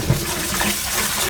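Water pours steadily and loudly into a bowl of rice and chickpeas being washed for chickpea rice, a continuous close gushing splash.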